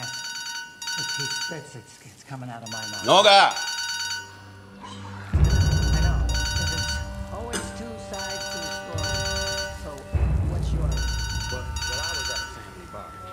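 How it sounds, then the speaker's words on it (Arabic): A mobile phone rings with a repeating electronic ringtone pattern, steady and fairly close, while people talk over it. "موبايلك بيرن"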